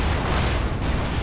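Artillery explosion in the PC tank combat game Gunner, HEAT, PC, a deep, dense rumbling roar that fills the whole moment at high loudness and holds steady, with no voices over it.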